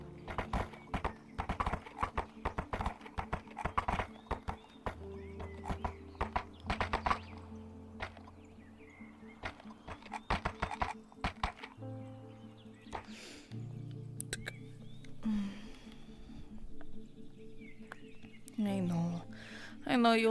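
Horse hooves clip-clopping in the medieval VR roleplay game Fractured Thrones: steady close hoof beats that slow and stop, with a brief snort near the end and some ambient game sounds.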